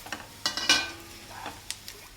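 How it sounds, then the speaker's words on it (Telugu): Fried okra tossed into a pan of onions, with a few sharp clatters and scrapes of stirring over a faint, low sizzle. "పచ్చివాసన పోయేంత వరకు ఫ్రై చేయాలి ఇప్పుడు వేయించుకున్న బెండకాయని ఇందులో వేసేయండి"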